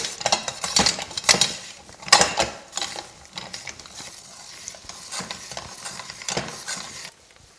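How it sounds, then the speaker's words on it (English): Peeled potatoes being pressed through a mouli food mill for ham and cheese potato croquettes, giving repeated metallic scraping and grinding strokes in uneven bursts, close and fairly loud, with no talk. "So now to mouli."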